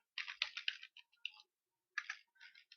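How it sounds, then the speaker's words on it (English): Quick bursts of computer keyboard typing while an exchange rate is entered into an invoice form, light clicky keystrokes in two short flurries with a pause between, close and quiet. "The user can still proceed to issue this invoice by manually typing the exchange rate here."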